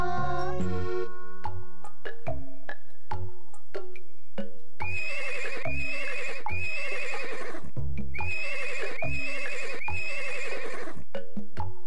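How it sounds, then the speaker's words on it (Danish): A horse on a farm neighs and whinnies repeatedly between clip-clop hoofbeats, loud and close, with several long bright whinnies in the second half and no voices. "Og på den gård, der var en hest."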